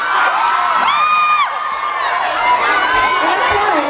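A concert audience on a StarKid tour show cheering loudly, with high whoops and shouts rising over a dense, continuous roar of the crowd.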